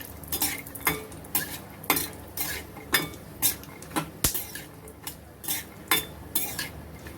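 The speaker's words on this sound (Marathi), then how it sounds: "त्याच्यात आपण बदाम काजू भाजून घेऊया" Almonds, cashews and walnuts roast in ghee for laddus while a spoon stirs and scrapes the pan in repeated close clinks and scrapes over a faint, steady sizzle, with no voices.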